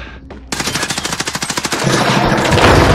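Rapid automatic gunfire from the video game Warzone: a loud, close run of evenly spaced bursts cracking in quick rhythm, then blending into a dense, continuous roar of shooting.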